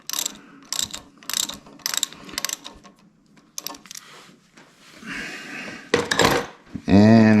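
A wrench loosens the top caliper bolt of a Performance Machine brake caliper on a Harley-Davidson motorcycle, giving several separate ratcheting clicks and metallic clinks close up in a quiet garage, with a brief louder clatter near the end.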